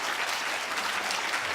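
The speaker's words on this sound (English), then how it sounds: "could I invite you all to give another big round of applause to all our" Symposium audience giving speakers a round of applause, dense continuous clapping filling the whole short stretch at a moderate level.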